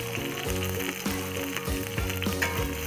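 Shallots and red chilies fry in hot oil for a tumis kangkung, a steady close sizzle with crackling bursts running throughout, no talk.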